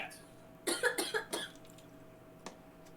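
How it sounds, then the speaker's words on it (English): A woman coughs a few times in a quick burst, heard somewhat distant in a quiet room during a tabletop role-playing session, followed by a single faint later cough. "I heard her cough."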